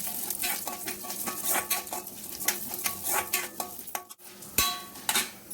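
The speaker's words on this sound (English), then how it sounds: "Add chana dal to it and fry well." Chana dal fries in a little oil in a kadai, giving a busy sizzle under repeated scraping stirs and light metallic clinks, with one short pause before it carries on.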